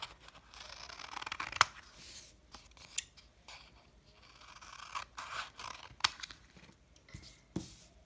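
Scissors snip through paper to cut out a circle for a pizza-quarters craft, giving a series of close, crisp cutting strokes at an irregular pace with sharp snips, with no talk.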